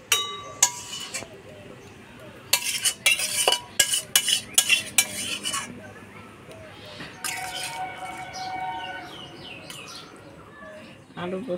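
A spoon scrapes and clinks against a pan while prawn curry with garam masala is stirred, in short clustered bursts. Someone talks softly nearby, and birds chirp in the background.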